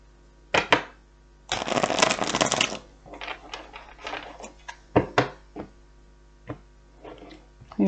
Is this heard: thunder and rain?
no